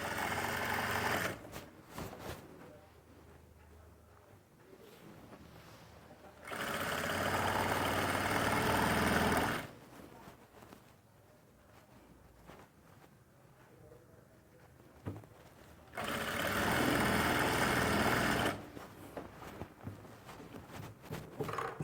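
Sewing machine stitching a straight seam with a half-inch margin on winter dress fabric, running in two steady bursts with quieter handling and pauses between, alone without talk.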